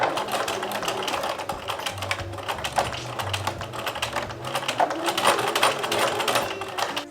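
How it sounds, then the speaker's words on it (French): A sewing machine stitches along a marked line on a blouse, its rapid mechanical needle chatter running steadily in close, fairly quiet bursts with a low motor hum beneath, no talk. "Et donc là, je vais coudre autour du trait."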